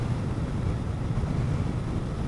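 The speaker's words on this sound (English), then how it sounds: "It's a bit windy today" Steady wind buffets the microphone outdoors in France, a continuous low rumble with gusty swells running loud and unbroken throughout, with no voices.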